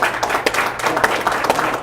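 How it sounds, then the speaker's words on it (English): Audience applause at a financial literacy class for teens and young adults, a steady round of clapping from a seated crowd, fairly close and lasting the whole moment with no talk over it. "a big round of applause, please"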